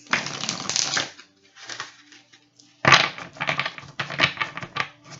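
A deck of tarot-style reading cards is shuffled by hand in bursts: a long riffle, a pause, a softer pass, then a sharp snap followed by rapid crisp flicks, close and clear.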